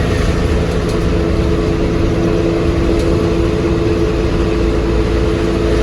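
A Tata KSRTC Swift deluxe bus engine while riding, heard from inside as a loud, steady low rumble and road roar with a constant hum and no distinct revving.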